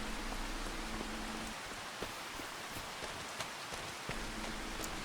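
Steady rain falling in the Farming Simulator 25 farming game, a dense, even hiss of drops on surfaces with occasional louder patters, heard alone throughout.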